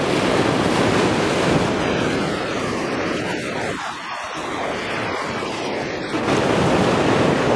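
Ocean waves surging onto coastal rocks along a rocky shore, a continuous loud roar of surf with wind buffeting the microphone and a brief lull before the next swell crashes in.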